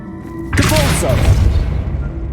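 A Depulso spell cast in Hogwarts Legacy strikes with a sudden, heavy thumping boom after a brief quiet lead-in, then a dense rumble that slowly trails off, with a short voice briefly audible over it.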